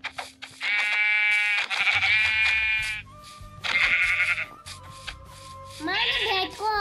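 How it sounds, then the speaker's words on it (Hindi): Sheep in a survival video game bleat several times in succession, loud, drawn-out wavering calls separated by short pauses, with a faint low rumble underneath. "भेड़ है ये, वहाँ भी भेड़ है"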